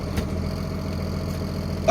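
A semi truck's diesel engine idles steadily with a low rumble during a brake tug test on a big rig tractor, followed by a brief louder burst at the very end.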